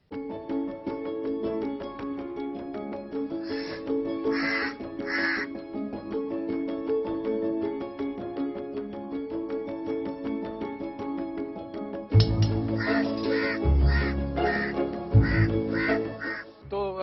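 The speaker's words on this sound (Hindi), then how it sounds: "विदिशा में एक व्यक्ति ने देश का पहला ऐसा काग उद्यान बनाया है जहां बड़ी संख्या में कौओं का बसेरा है।" Crows caw repeatedly at a crow garden in Vidisha, Madhya Pradesh, their harsh calls coming in bursts over a steady, dense background hum.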